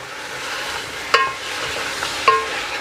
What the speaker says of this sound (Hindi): अभी मैं इसको अच्छी तरह भूनूंगा। मैंने बीफ को अच्छी तरह ब्राउन कर लिया है।